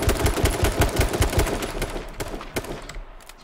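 Rapid automatic gunfire from a team shooting in the video game H1Z1, loud dense bursts of shots that thin out and fade to a few distant reports.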